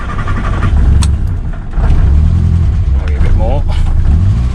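A car engine cranking and catching on a little choke after sitting for a few hours, turning over and settling into a running idle close by, with someone talking over it.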